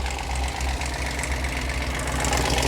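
An idling car engine runs steadily and loudly, with a constant low hum and a fast ticking, rattling texture throughout from a loose part.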